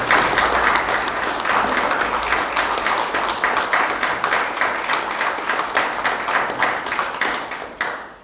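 An audience applauds at a municipal investiture ceremony, sustained rhythmic clapping from many hands that holds steady for several seconds before fading at the end, with no one speaking.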